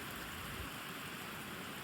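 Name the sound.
heavy rain increasing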